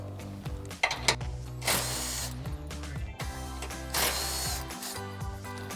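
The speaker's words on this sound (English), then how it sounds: "So we'll grab our 18mm socket on our impact, go ahead and pop those off." An impact wrench with an 18mm socket removes the rear bumper bolts on a 2021-2024 Ford Bronco, rattling in two loud, close bursts with quieter mechanical clicks and handling noises between them.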